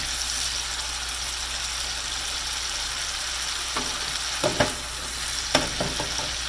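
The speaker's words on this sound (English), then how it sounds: "you don't want the garlic to burn in the fat" Garlic fries in hot fat for pasta carbonara, giving a steady close sizzle with a few sharp stirring clicks and scrapes near the end.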